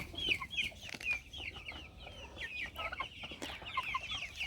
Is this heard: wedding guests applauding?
no